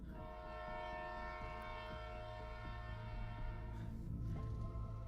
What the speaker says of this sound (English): kind of really far off, there's the sound of a train horn